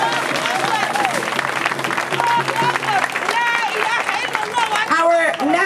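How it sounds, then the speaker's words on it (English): A crowd at a protest rally applauds after a performance, with sustained clapping and cheers and whoops rising through it, fairly close and loud throughout. "Can we give one more round of applause for that performance?"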